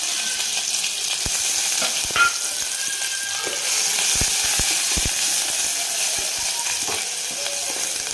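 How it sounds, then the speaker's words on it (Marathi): One chopped onion fries in hot oil for a chicken biryani, giving a strong, continuous sizzle close by, punctuated by sharp clicks and scrapes of stirring. "तेल गरम झाल्यावर एक कांदा फक्त चिरून घ्यायचा तो टाकायचा आहे आपल्याला"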